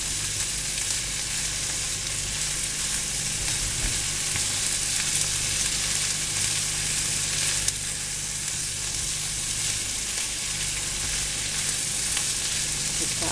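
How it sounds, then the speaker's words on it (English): Squash casserole mixture being stirred, heard as a loud, dense, unbroken hiss and scraping that carries steadily throughout, with no voices. "All stirred up."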